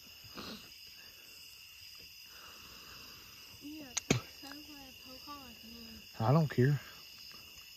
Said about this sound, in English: And the dang bugs is out.